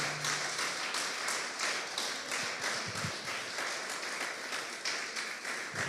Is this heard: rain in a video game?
no